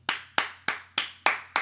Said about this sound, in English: Cole Bennett, hand clap right now for him